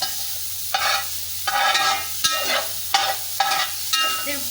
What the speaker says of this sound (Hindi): तो ये हम पहले चर्बी को पिघला लेंगे इसके अंदर थोड़ा सा।